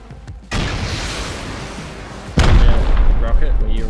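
Loud blasts from a rocket launcher in a multiplayer shooter video game, one heavy boom starting about a half second in and a second, stronger boom near the end, with players talking over the gunfire.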